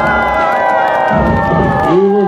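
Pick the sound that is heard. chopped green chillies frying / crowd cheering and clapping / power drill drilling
crowd cheering and clapping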